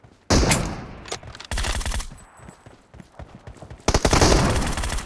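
Loud, close bursts of rapid automatic gunfire in the mobile shooter PUBG during a team deathmatch, three dense volleys separated by short gaps, with no voices.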